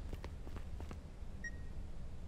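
A hanging deer carcass in the horror video game The Beast Inside gives off a single short, clear electronic beep, faint and alone after a few soft tapping steps.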